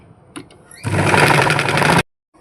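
An electric sewing machine stitches uniform pants in one loud, close, continuous whirring run of about a second, which stops abruptly into silence.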